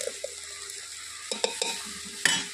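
Okra (bhindi) frying in a pan in a home kitchen: a soft, steady sizzle broken by a few scraping clinks as a utensil stirs, no voices.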